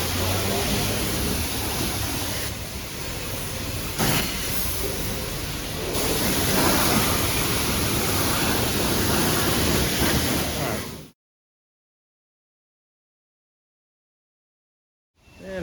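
High-pressure car wash wand spraying a rinse over the engine bay of a 1974 Chevy C10 pickup, a steady loud hiss of water for about eleven seconds, then it cuts off to silence.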